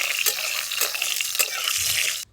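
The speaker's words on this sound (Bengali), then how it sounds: "ফোড়নটা একটু ভাজা ভাজা করে নিচ্ছি।" Whole cumin seeds crackle and sizzle in hot mustard oil, a dense, bright frying hiss. Three or four spoon scrapes stir it before the sound stops abruptly near the end.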